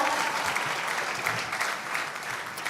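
An audience at an entrepreneurs' summit in Nigeria applauds, a dense wash of many hands clapping that stays steady and fairly loud for a few seconds.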